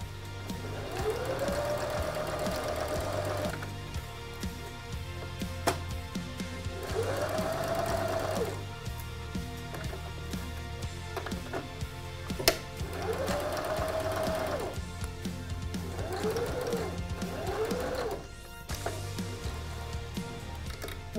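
Sewing machine stitching a pouch made from an old curtain: a steady mechanical whir in several runs of a few seconds each, separated by short pauses, with a soft tick or two between runs.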